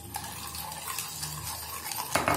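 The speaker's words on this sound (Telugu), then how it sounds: "ఈ విధంగా మనం దీన్ని బాగా మిక్స్ చేసుకుందాం." Orange ice bar mixture with lemon juice and water being stirred in a bowl, a steady soft swishing with light clinks of a spoon against the container, fairly quiet and without talk.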